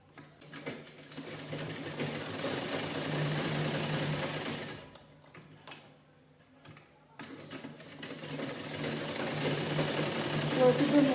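A sewing machine runs in steady bursts, double-stitching two fabric pieces together for a square and round seat cushion, with a brief pause midway before the mechanical whirr resumes.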